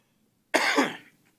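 A single loud, close cough bursts out after a stretch of silence and trails off quickly, in a council chamber during a city council regular session.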